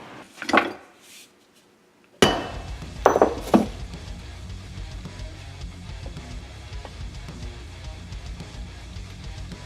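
A new bushing is hammered into a Turbo 400 transmission case, sharp metallic blows, a few isolated strikes followed by a louder series, with clattering and workshop noise after, no speech.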